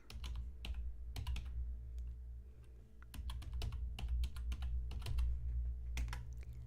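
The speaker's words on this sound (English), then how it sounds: "I'll type that out." Computer keyboard typing in bursts of quick, close key clicks with brief pauses, over a low steady background hum, no voices.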